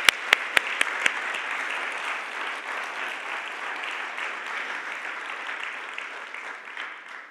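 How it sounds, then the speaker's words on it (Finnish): An audience at a Finnish EU programme event applauds warmly, starting with a few sharp, close claps that settle into steady, sustained clapping that fades slightly at the end. "Isot aplodit vielä kaikille."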